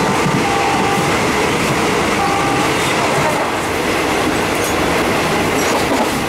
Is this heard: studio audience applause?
no